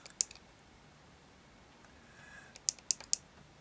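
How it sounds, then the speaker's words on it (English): Several sharp, faint clicks from the power button of a Teslacigs XT vape mod, one single click early on and then a quick run of three evenly spaced presses near the end, close up in a quiet room. "To get into the menu itself,"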